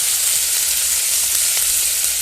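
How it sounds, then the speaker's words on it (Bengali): Onion and garlic fry in a wok, with ginger paste, turmeric and chili powder added, giving a loud, steady, close sizzle with no talking. "ওই কড়ার মধ্যে দিয়ে দিচ্ছি পেঁয়াজ কুচি আর রসুন কুচি দিয়ে ভাজা ভাজা হয়ে এসছে"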